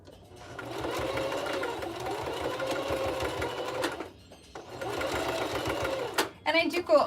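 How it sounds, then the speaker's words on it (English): A sewing machine stitches two pieces of fabric together for a Japanese knot bag wristlet, running in a steady close whir, stopping briefly midway, then resuming before a few rattling knocks at the end. "I'm just gonna head over to the machine and I'm going to sew these two pieces together right here"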